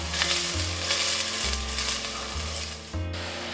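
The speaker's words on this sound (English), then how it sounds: "Now we just need to wait for the onions to get it brown, nice golden brown." Onions frying in a pan on the way to golden brown, a steady close sizzle with faint scraping stirs and a low hum running underneath throughout.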